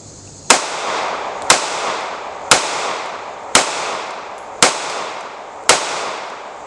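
Six evenly spaced gunshots from a Kimber CDS9 Micro 1911 9mm pistol, each a sharp loud crack with a short echoing decay, fired at a steady pace of about one per second outdoors.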